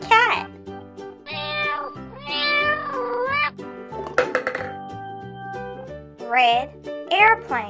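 A cat meows repeatedly in drawn-out, tonal calls with rising and falling pitch, loud and close, several separate meows across the stretch amid a bright, busy background.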